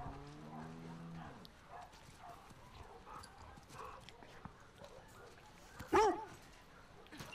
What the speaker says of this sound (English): Good to have a little section like this playing with a dog